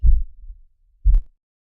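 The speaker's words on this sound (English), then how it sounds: "Cue the heartbeat." Heartbeat sound effect, a single deep lub-dub thump: a strong low pulse, a short gap, then a second punchy beat, close and alone.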